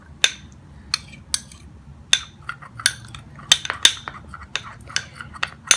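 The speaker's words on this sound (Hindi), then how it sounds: "अब हम इसे मिक्स कर देंगे।" A metal spoon stirs aloe vera gel and lotion in a small bowl, giving sharp irregular clinks and taps against the container, about a dozen distinct hits close up over a faint background hum.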